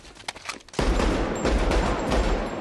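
Gunfire in a close-quarter combat scene from the 2004 thriller film Collateral: a few sharp shots, then a dense, loud burst of rapid firing that continues to the end.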